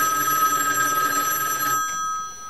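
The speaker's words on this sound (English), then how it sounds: "we have a call right now on the telephone" An Automatic Electric Monophone Model 60 telephone rings, its bell producing a loud continuous metallic jangle for under two seconds before cutting off and leaving the room quiet.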